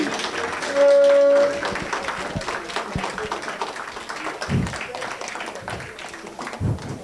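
Veterans' Day breakfast audience clapping to honour veterans, a scattered, moderate round of applause in a hall with some louder claps standing out near the end.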